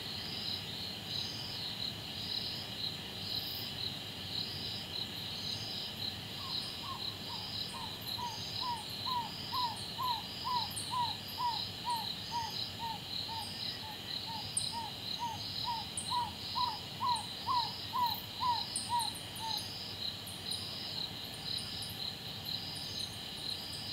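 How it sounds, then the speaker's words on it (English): A small owl gives a steady series of short, evenly spaced hoots for several seconds, over a constant background of shrill crickets and insects at night in Kruger National Park. "Their loud, repetitive call, which can carry on throughout the night, gives away their general location."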